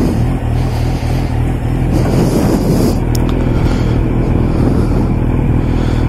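A motorcycle rumbles steadily during a riding lesson for beginners. The engine holds a continuous low drone that grows slightly stronger and comes close and loud, with wind buffeting and no speech.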